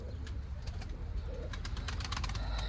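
Pigeons in a loft coo repeatedly in soft, rhythmic bursts close by, with a low steady rumble beneath and no talk.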